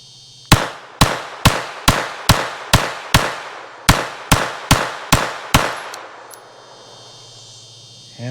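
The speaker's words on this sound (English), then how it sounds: "So let's pull it out and see what we have. Let's try this PPQ22." A Walther PPQ22 .22 LR pistol fires about a dozen sharp, loud shots in a quick steady rhythm with a brief pause midway, each crack followed by a short ringing decay, then the shooting stops.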